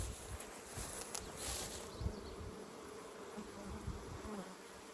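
A dense, steady insect buzz fills the whole clip, many bees droning together around a hive close by with a few louder passes, no voices.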